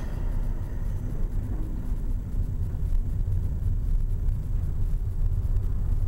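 Cars roll along a road in Glasgow, heard from inside a moving vehicle as a steady, even rumble of engines and tyres with no talking over it.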